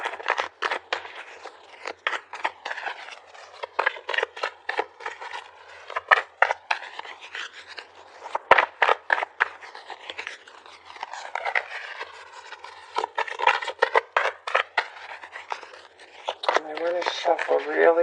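Tarot cards being shuffled during a reading, a fast run of crisp riffling and slapping bursts repeating in irregular clusters, close and fairly loud.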